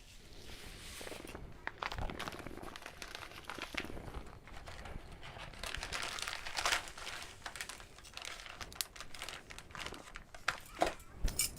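Plastic Ziploc bag crinkling and rustling close by in a home kitchen while ginger beer ingredients are double bagged, with irregular crumpling bursts and handling noises throughout.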